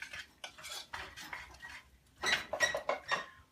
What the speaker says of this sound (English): grab a spoon. This is a short one. Just shake that up in there, stir it real well.